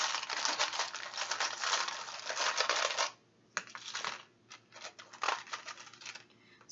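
Rune stones or dice cast during a tarot reading, clattering and rattling in quick bursts against a surface, close and crisp, pausing briefly before a few more scattered clicks.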